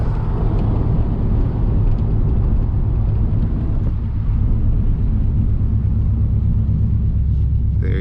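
A Subaru WRX/STI turbo setup makes a loud, continuous low rumbling engine drone with a fast rhythmic flutter pulsing through it, steady and close for several seconds.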